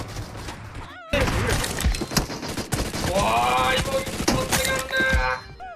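Rapid automatic gunfire from an elite enemy crackles in a shooter video game, coming in loud, dense bursts with sharp impacts and electronic game tones layered over it.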